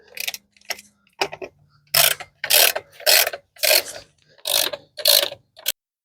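A ratchet snugs up wheel lug nuts on a 2013 Dodge Dart, giving about a dozen short bursts of rapid clicking with brief pauses between strokes, close and clear with no talking.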